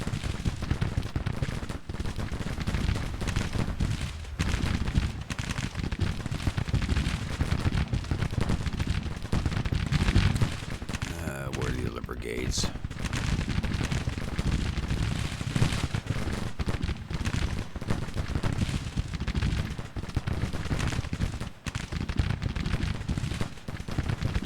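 Mississippi rifles firing in a Civil War battle game, a dense, continuous roar of overlapping musket volleys and distant booms that runs the whole time, loud and unbroken, with no voices.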